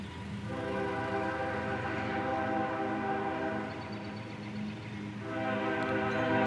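A CSX freight train passes at dusk, its horn sounding loud and sustained with stacked harmonic tones, dipping briefly mid-way before blaring again over the steady rumble of the rolling train.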